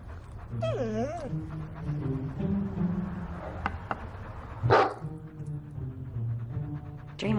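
A dog whimpers and yips softly through a quiet indoor scene, the thin whines rising and falling with brief gaps, plus a sharper burst near the end.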